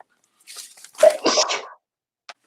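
A single sharp human sneeze, close and brief, with a short intake before it and a faint click afterward.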